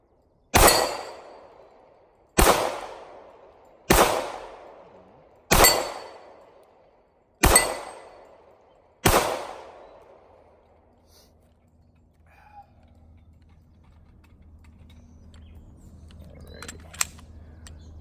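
Smith & Wesson M&P 45c Gen 1 pistol firing six sharp, loud shots at an even pace, each followed by a short ringing decay, then quiet range noise.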